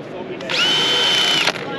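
A power drill drives a self-drilling rivet at a barndominium building expo, giving one sustained high whine of about a second that starts and stops abruptly, with people talking around it.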